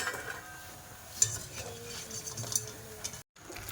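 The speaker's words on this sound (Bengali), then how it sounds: "এখন কি সুন্দর লাল লাল করে ভাজিছি দেখো" Food fries in oil in a wok-style pan in a home kitchen in the Sundarbans, giving a soft, faint sizzle broken by light stirring and occasional utensil clinks.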